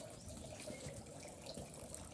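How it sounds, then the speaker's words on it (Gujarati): Water runs outside a house, a faint, even gushing flow like a tap or pipe pouring that continues steadily without pause. "આ રીતનું પાણી આવે છે."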